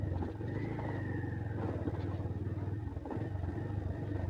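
Motorbike ridden along a rough, forested village track, not an off-road bike, its steady engine drone loud and continuous throughout with a rattling undertone.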